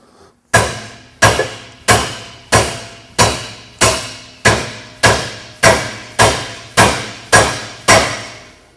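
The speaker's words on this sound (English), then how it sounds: "See the end? That's what we're hammering on, that's damaging it." Steady, evenly spaced hammer blows on the end of a metal bushing, about a dozen loud ringing strikes in a row, each decaying quickly before the next.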